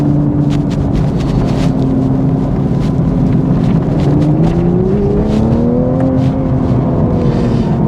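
A Toyota GR Supra Jarama Racetrack Edition pushed hard on a race track, its engine droning loud and steady from inside the cabin, the pitch climbing as it accelerates and then settling, with road and wind noise throughout.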